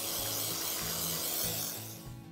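Nonstick baking spray, the flour-containing kind, is sprayed generously into the cavities of a Christmas tree cake pan, giving a steady close hiss that runs about two seconds before trailing off, with no talking.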